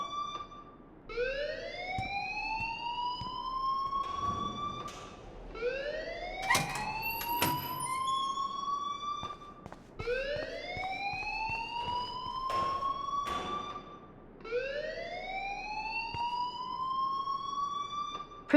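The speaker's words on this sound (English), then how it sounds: "please turn off that alarm since that's your job" A school alarm in the video game Life is Strange sounds as a steady, repeating rising electronic whoop, about four cycles over eighteen seconds, heard alone at moderate level.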